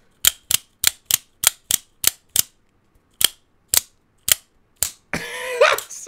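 An EMPEDC Pulse OTF knife fires its blade open again and again, a string of about twelve sharp, loud metallic snaps in quick rhythm over near silence, ending with a burst of rustling handling noise.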